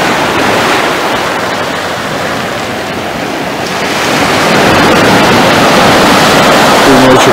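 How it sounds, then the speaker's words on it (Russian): Surf rolls onto the pebble beach at Pitsunda, Abkhazia, a continuous close wash of breaking waves with some wind buffeting the microphone. The roar builds slightly toward the end. "Это море и пляж Пицунды."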